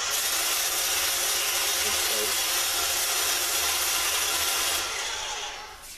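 A wire wheel on a cordless power tool scrubs rust off a salvaged PC case with a continuous loud, harsh whirring grind that fades and slows near the end as the tool winds down.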